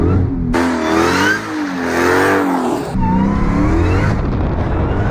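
A Dodge Hellcat drifts through an S-turn, its loud, close engine revving hard and rising and falling in pitch as the car flicks from one direction to the other, with some tire noise mixed in.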